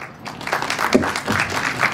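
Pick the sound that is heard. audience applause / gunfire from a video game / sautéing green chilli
audience applause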